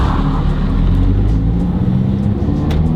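A Mazdaspeed 3's engine roars close and loud in a sustained rev, a dense low rumble holding steady for a few seconds with no talking.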